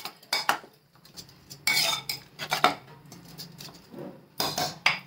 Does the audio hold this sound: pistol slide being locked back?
no